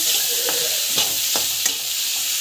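Tomato sautéing in a frying pan with a constant bright sizzle, broken by a few distinct scrapes of a spatula against the pan at a slow, even rhythm.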